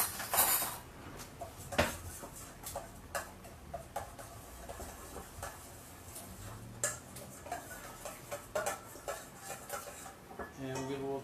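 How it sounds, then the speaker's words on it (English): Greek dressing with dried oregano being mixed in a bowl, with a steady run of close, clattering utensil taps and clinks against the dish, uneven in rhythm throughout. "And now we're just going to mix this up."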